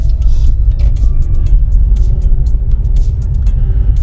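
A car creeps along slowly in first gear, giving a steady low engine rumble close by with faint road noise and occasional soft knocks, no voices.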